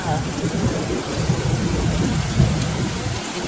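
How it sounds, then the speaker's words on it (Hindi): A morning thunderstorm brings steady heavy rain hissing on surfaces outdoors, with low rumbling thunder rolling underneath and a stronger swell near the end. "क्या बिजलियां कड़क रही हैं, क्या बादल गरज रहे हैं और क्या बारिश हो रही है।"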